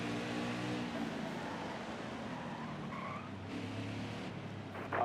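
A race truck in NASCAR Heat 5 brakes and skids, its engine drone and tire squeal holding steady and fairly loud throughout, with no talk over it.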